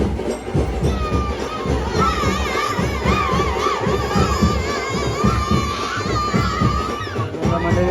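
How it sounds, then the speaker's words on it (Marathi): A festive crowd cheers loudly around the Aai Gavdevi palanquin procession in Ghotgaon village, with children shouting and many voices overlapping in a continuous, close, boisterous roar. "जशी पालखी पुढे जाते तसा जल्लोष आता वाढत चाललेला आहे"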